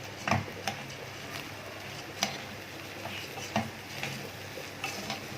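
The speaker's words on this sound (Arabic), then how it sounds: "ندي تقليبه واحده بس وهنديله الميه بتاعته" Rice with cumin, salt and a stock cube stirred in a pot, giving several soft scraping, clinking spoon strokes at irregular intervals over a low sizzling background, with no voices.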